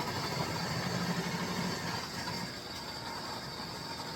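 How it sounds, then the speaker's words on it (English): Quiet rattling, whirring drone of a KitchenAid stand mixer running as it processes shredded zucchini, fairly steady and continuous with no talk. "I'm just going to turn on my KitchenAid."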